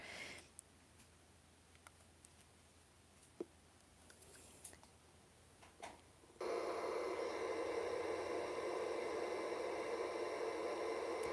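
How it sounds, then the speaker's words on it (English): Speaker playing white noise during a spirit session, a sudden flat hiss that switches on partway through and holds steady and loud after quiet clicks and small handling sounds. "it's a speaker and it's just white noise"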